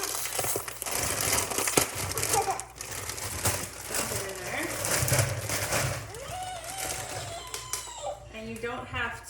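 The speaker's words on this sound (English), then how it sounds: "And I'm going to use this whole bag of cauliflower." A plastic bag of cauliflower crinkles and rustles as it is emptied into a pot, with irregular crackling bursts and people talking over it.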